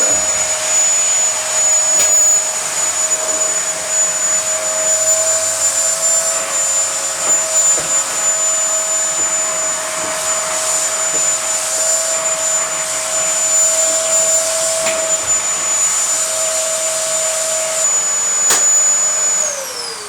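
A vacuum cleaner runs steadily and loud, hoovering mouldy door cards from a Mk2 Golf, its motor whine holding an even pitch throughout before dipping slightly at the end, with no talking.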